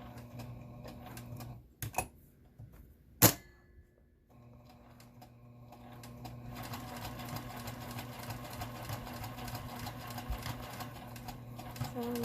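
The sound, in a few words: sewing machine stitching heavy fabric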